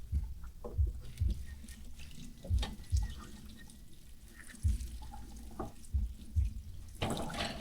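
Water runs and splashes while a large pile of dishes and blackened cooking pots is washed at a countryside farm home in the Philippines, with irregular clatters and drips, close and moderate in level.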